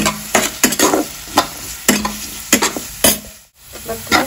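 Onions fry with salt in a pan, giving a sizzle punctuated by sharp, rhythmic stirring scrapes, close and loud.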